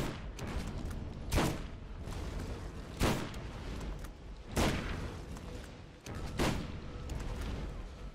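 Gunfire rattles steadily through a Borderlands video game battle against the flying boss Mothrakk, with four heavy booming blasts punching out at regular intervals over the continuous shooting.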